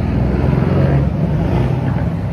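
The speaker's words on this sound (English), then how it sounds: "Do you hear that amazing engine? So that's a beautiful Mercedes" A Mercedes car engine runs loud and close with a steady low rumble, holding an even drone throughout.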